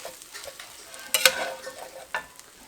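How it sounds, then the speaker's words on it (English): A spatula stirs and scrapes a breakfast taco mixture in a hot pan, with sharp scraping strokes over a soft sizzle, close and brief. "Now we're just going to mix everything up. I'm going to scrape up some of that good stuff off the bottom"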